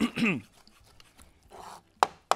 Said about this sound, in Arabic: اقطع بهذا الشكل راح اظل اقطع بيه لحد ما اسوي مهروس